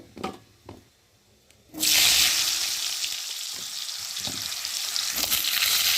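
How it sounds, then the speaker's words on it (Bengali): Potatoes dropped into hot oil with cumin seeds in a pan burst into a loud, steady sizzle after a few quiet clinks, the frying hiss continuing close and strong. "এখন আমি আলুগুলো প্রথমে ভালো করে একটু ভেজে নেব"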